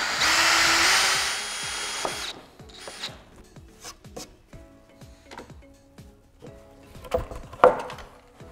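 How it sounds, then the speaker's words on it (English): A power drill bores through wood and aluminum for a heavy-duty floating shelf, first with a loud, sustained whine for about two seconds. Scattered knocks and handling clatter of the workpiece and tool follow. "First, I drill through both the wood and the aluminum"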